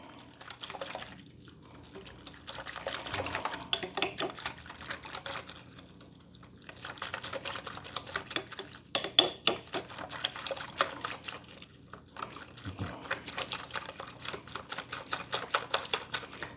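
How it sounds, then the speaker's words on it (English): A whisk works flour into a cold liquid in a bowl, making quick rhythmic clicking and sloshing strokes in bursts separated by short pauses, close up and moderately loud. "Whisk it around. Let's try to get that incorporated."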